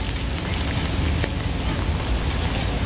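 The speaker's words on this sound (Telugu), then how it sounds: "ఈ వర్షంలో బయట ఒక్కళ్ళు లేరు." Steady rain falls outside on a Paris street, a continuous close hiss of drops hitting the ground with faint scattered ticks and no voices.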